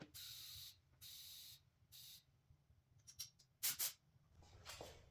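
An air compressor inflates a bike tire in short bursts of hissing air, three even blasts followed by sharper, irregular spurts, close but fairly quiet.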